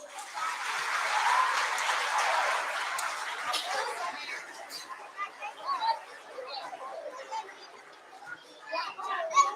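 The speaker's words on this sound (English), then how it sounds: "Can we give them a big round of applause?" Applause from a school assembly audience for Year 1 pupils on Grandparents Day, a broad clapping swell that fades after a few seconds into scattered claps, children's chatter and murmuring voices.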